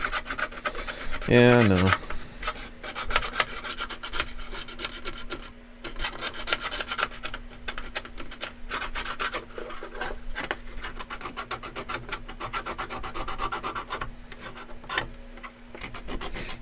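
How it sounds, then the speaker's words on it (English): A file smooths the micro-bumpy textured surface of a handle in quick, rapid rasping strokes that run continuously over a low steady hum, with a brief spoken exchange early on. "Get that nice and smooth, and the file takes quick work of that."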